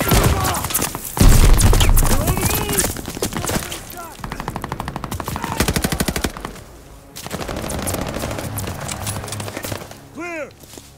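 Rapid automatic gunfire in the shooter Call of Duty: Vanguard, sustained bursts of close, loud shots with battle noise between them and a voice talking over part of the action.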